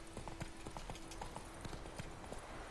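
Horse hooves clip-clop at a steady riding gait in the video game The Witcher III, the rhythmic clopping running throughout under ambient game sound, with a soft whinny-like tone in the background.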